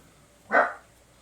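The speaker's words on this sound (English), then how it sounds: "Yes, I have dogs. They don't know how to be quiet." A single short dog bark, fairly close, stands out briefly against a quiet background.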